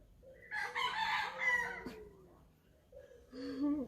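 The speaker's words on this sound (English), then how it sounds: "Chickens in the tree." A rooster crows loudly nearby from chickens in a tree, a long rising-and-falling call, followed by a shorter second crow after a brief pause.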